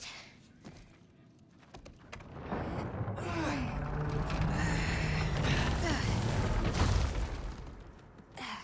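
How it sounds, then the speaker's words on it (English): A creature breathes heavily in a dark cellar in the video game God of War Ragnarök, a low, rasping swell that builds and holds for several seconds over dim game ambience before fading. "Something breathing by the back of the cellar."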